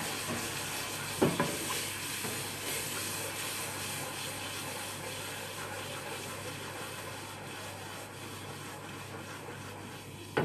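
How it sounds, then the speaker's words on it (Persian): Kachi, a sweet Persian flour-and-butter pudding, has warm water stirred into it in a pan, giving a steady hiss and sizzle with a sharp burst near the start and faint scraping throughout. "آب ولرممون رو به کاچی اضافه میکنی و مرتب هم میزنی"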